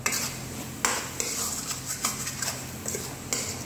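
A spoon stirs fish curry in a pot, scraping and clinking against the metal in a steady loose rhythm, with a few sharper knocks standing out over a soft simmering hiss.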